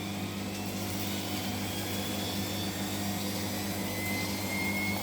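A Siemens front-loading washing machine runs its final spin cycle, a steady low hum and whir with rising tones from the drum as it gathers speed, heard at moderate distance.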